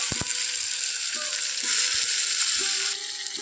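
Green chillies and chopped tomatoes dropped into hot oil with onions for a Bengali fig-and-prawn curry, a loud continuous sizzle with a few faint clinks of a utensil.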